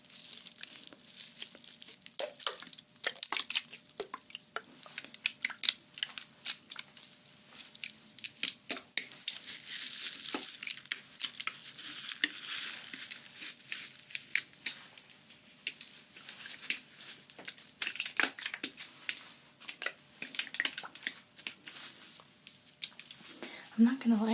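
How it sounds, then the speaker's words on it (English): Crinkly, scratchy ASMR trigger sounds mixed with slushy, squishing water, close and intimate, coming in quick irregular bursts of patter and crumple throughout, with soft whispery voice sounds underneath. "Got the scratchy, kind of crinkly with some slushy water sounds."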